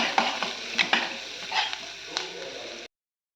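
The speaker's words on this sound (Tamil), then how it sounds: "அடுப்பை சிம்மில் வச்சு நல்லா வதக்கிக்கலாம்." Small shallots with curry leaves, mustard seeds and lentils sizzling in sesame oil over low heat while a spoon stirs and scrapes the pan, with steady frying hiss and sharp close clatters before the sound cuts off abruptly.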